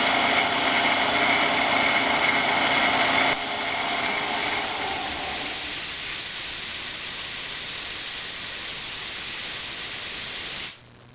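A machine tool cuts across a workpiece on a fogless coolant setup, giving a steady, loud broadband hiss and whine that drops partway through, then carries on as a softer, even rush before cutting off abruptly at the end.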